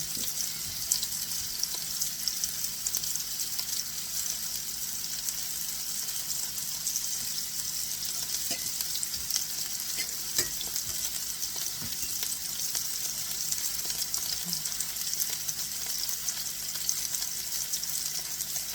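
Kebabs seasoned with a cinnamon spice mix sizzle on a hot indoor grill turned down to lower heat, a steady close frying hiss with faint scattered pops running unbroken throughout, no voices.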